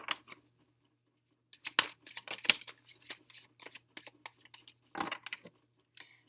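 Tarot cards being shuffled in bursts of crisp riffling and flicking, close and fairly quiet, with brief pauses between runs and no talking.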